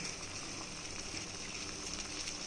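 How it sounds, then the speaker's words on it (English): A pot of water bubbles at a steady boil, a faint continuous hiss and gurgle with no voices over it. "This water bubbles."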